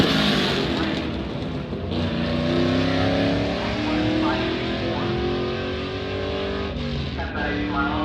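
Pair of pickup trucks drag racing an eighth-mile strip at a Duck Tape Drags beater event, engines roaring and revving continuously and loudly, with crowd noise and commentary voices in the background.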